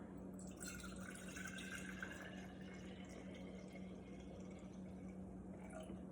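Strained herbal infusion water pours back into a jar with a soft, steady trickling splash that continues throughout, quiet and close.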